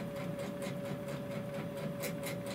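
A Baby Lock Chorus sewing machine stitches fabric with a steady motor hum and a rapid, even needle rhythm, close and continuous throughout, with no talking.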